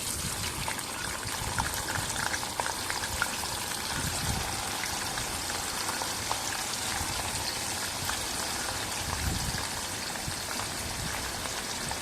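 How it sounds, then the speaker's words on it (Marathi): Cubes of paneer deep frying in a pan of oil, a dense, continuous hiss and fine crackle that holds steady and loud throughout with no voices. "व्यवस्थित लाल होईपर्यंत आपण याला फ्राय करणार आहोत तेलामध्ये"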